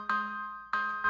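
Two bright, bell-like chords from the Hybrid Keys synth struck one after another, each ringing with a hard, slightly harsh edge before the next hit.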